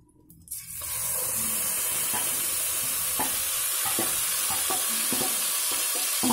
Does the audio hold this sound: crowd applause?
no